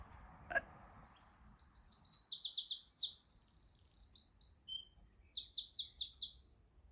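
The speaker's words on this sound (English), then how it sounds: "We're trying to figure out what bird song that is." Bird song from a bush drifts in through open doors, a lively run of rapid, bright chirps and trilled phrases at moderate distance, following a single sharp knock near the start.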